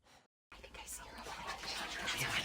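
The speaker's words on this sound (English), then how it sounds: "she heard whispering." Soft, breathy whispering comes through a door in a dark house in the video game What Remains of Edith Finch, faint and rising gradually after a brief silence, with no clear words.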